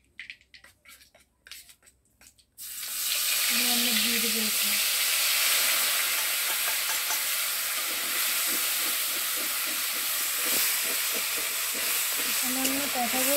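Spice paste loosened with a little water is sautéed in a pan for a potato, cauliflower and coconut curry. After a few quiet knocks it bursts into a loud, steady sizzle that hisses on close by.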